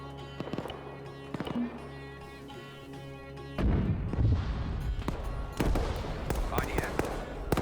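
Artillery shells land in an Arma 3 firefight in Fallujah, with sharp distant cracks early, then a heavy impact rumble partway through followed by more scattered blasts and pops.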